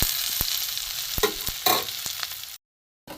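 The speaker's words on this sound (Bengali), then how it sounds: "পেঁয়াজ এর সাথে ফোড়নটা ভালো করে ভাজা হোক" Onions fry in hot oil with whole garam masala and cumin seeds, giving a close, crackling sizzle with spatula scrapes and stirring knocks for about two and a half seconds before the sound stops abruptly.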